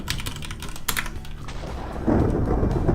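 A lightning strike on a pig in Minecraft: rapid keyboard typing clicks first, then a sudden loud thunderous crack bursts in and rumbles on to the end.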